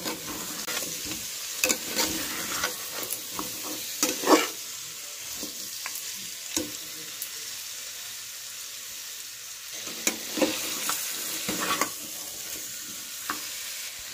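Mutton curry masala stir-fried (kosha) for a railway-style mutton curry, with a steady sizzle broken by repeated scraping and stirring strokes of a spoon in the pot, close and moderately loud, no talking.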